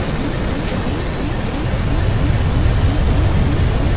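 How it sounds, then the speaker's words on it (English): In the survival game Stranded Deep, an airplane's jet engine roars in a steady, loud, dense drone throughout, with a thin high whine running over the rumble as the plane goes down. "They are crashing on an airplane."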